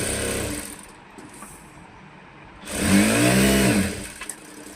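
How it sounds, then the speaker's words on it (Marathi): A sewing machine stitches the full side seam of a size-28 princess-cut blouse, a steady mechanical whir that builds into a louder, faster run midway before easing off, close and alone without talk. "आता साईडून आहे तसं आपण पूर्ण शिलाई मारून घेऊया"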